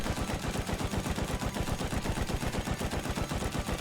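Rapid automatic gunfire from a weapon in the video game Rust, a dense, evenly paced stream of shots holding loud and steady for several seconds with no pauses.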